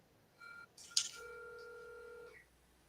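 A few short electronic tones as an iPhone places a call, then a long steady two-pitch tone like a phone ringing out, clear and close with no talking.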